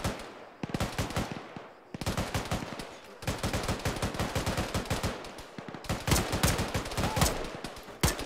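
Video game gunfire in rapid automatic bursts, loud and sustained, separated by brief pauses, with overlapping shots from several weapons filling most of the stretch.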